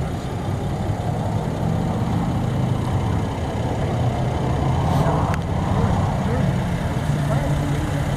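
Engine of a 2013 Mercedes-Benz E350 4MATIC idling steadily outdoors, a constant low rumble with a voice talking over it.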